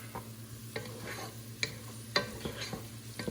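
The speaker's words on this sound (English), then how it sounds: "we let our onions and peppers soften up a little bit, cooking in that bacon fat" Onions, peppers and minced garlic sizzling in bacon fat, a low steady fry broken by several clicks and scrapes of a spoon stirring the pan.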